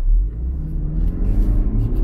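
A Land Rover Defender 110 P300 idles after starting, a steady deep engine rumble close by with slight rises in revs and no voices.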